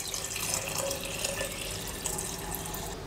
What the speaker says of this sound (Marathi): या कलशामध्ये आपण सर्वात आधी इकडे पाणी टाकून घेऊया